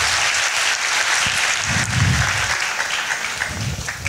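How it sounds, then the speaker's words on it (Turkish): A large studio audience of about 600 people applauds contestants leaving the stage, with steady, full clapping and a few low murmurs or cheers beneath it. "Alkışlarla onları uğurluyoruz efendim."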